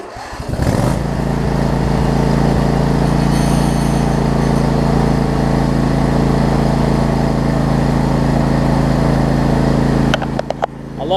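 A Husqvarna riding mower with a freshly swapped hydrostatic transmission starts up and runs at a steady, loud drone for about ten seconds, then cuts off near the end.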